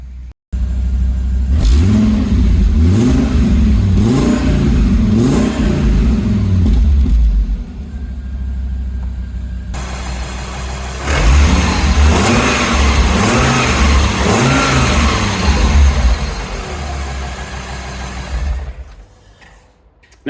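A Fiat Coupe 20v engine revs hard in repeated rising and falling bursts, loud and close, then settles into a lower rumble before climbing into another series of revs that fade out near the end.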